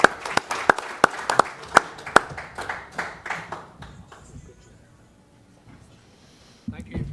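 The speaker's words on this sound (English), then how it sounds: "Another round of applause for Andy Cooney" Scattered applause at an Irish American gathering, a few loud distinct claps that thin out into quiet, followed by the start of a voice near the end.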